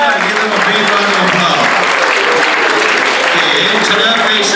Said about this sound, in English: give them a big round of